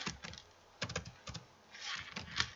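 Text is typed on a computer keyboard in quick, close clicking bursts with short pauses between them, fairly quiet and with no voice over it.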